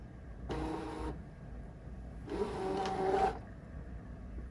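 A cutting machine loading its mat, two short motorized whirring bursts with a faint rising whine, close by and alone.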